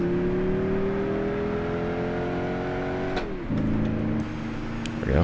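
Classic sports car engine in Gran Turismo 6 on a two-speed gearbox, droning at high revs, then a sudden drop and whine after a missed shift before the pitch climbs again, loud and close with no talk.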